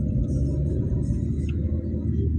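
A car engine labours up a steep hill road, a loud, steady low rumble and drone heard from inside the vehicle, with people talking over it.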